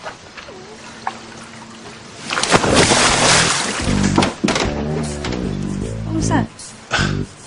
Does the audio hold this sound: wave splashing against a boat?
yes